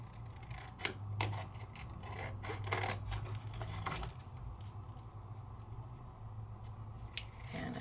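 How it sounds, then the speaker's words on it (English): Scissors cut a stencil freehand by hand, close and quiet, with a series of irregular snips and paper rustles. "Just cut this right on out"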